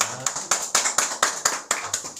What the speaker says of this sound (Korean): 우리 예배드려 가신 하나님께 영광의 박수 올리겠습니다.